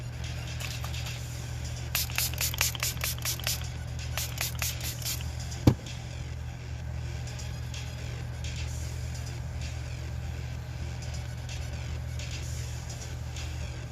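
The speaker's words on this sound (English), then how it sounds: "Fixing spray, setting spray, that's the same thing." Makeup setting spray infused with cannabis sativa is spritzed in two quick rapid-fire groups of short hissing pumps, close, over a low steady background hum.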